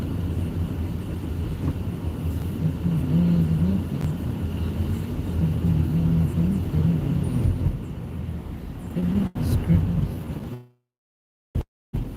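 A car drives along a road on a chilly December day, steady low rumble and tire noise from inside the cabin, then a sudden cut to near silence near the end.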